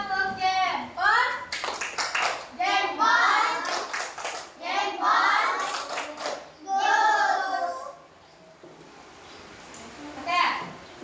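Primary-school children in a classroom clap together in a quick rhythmic thumb-clap pattern, several bursts of chanting and clapping over about eight seconds, then a quieter tail with a voice.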